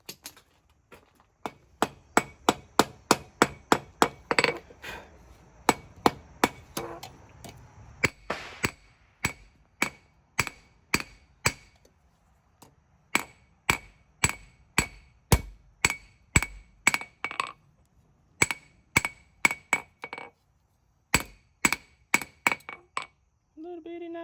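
Rhythmic hammer blows ring out on hot scrap metal being forged into a small knife, dozens of sharp metallic strikes in quick bursts with brief pauses, close and loud, with faint talk in the background.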